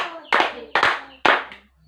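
Classroom applause for a student group, three sharp, close hand claps spaced evenly about half a second apart, with no talk over them.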